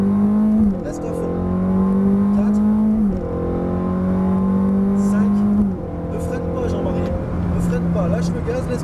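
A Ferrari F430 F1 accelerates at full throttle on a track, its engine note climbing in loud, rising sweeps broken by quick upshifts. A voice talks over the engine the whole time.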